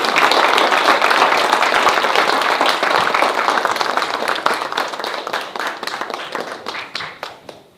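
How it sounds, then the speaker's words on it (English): Applause at a city council meeting, loud and close, begins as a thick burst of clapping and gradually thins out into scattered individual claps before stopping. "Let's give him another round of applause."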